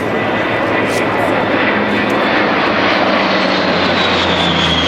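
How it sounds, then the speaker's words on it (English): A propeller-driven C-130 makes a high-speed pass at an air show, its engine roar loud, broad and steady throughout, with a slowly shifting whine as it goes by. "you'll C-130 doing a high-speed pass with 2 A-10 Sandys"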